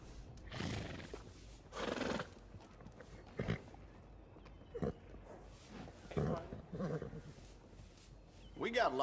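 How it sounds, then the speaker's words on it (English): Horses neigh in the Western video game Red Dead Redemption 2, with a few loud whinnying bursts spread across the stretch over a steady background bed of game ambience. "We got lots of horses to choose from."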